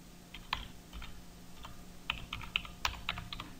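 Quick bursts of key presses on a computer keyboard, close and fairly quiet, in an irregular typing rhythm with short pauses between clusters of clicks.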